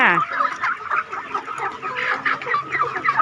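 Young hens cluck and chatter continuously nearby, several birds overlapping in a busy flock on a small farm in Isan, Thailand.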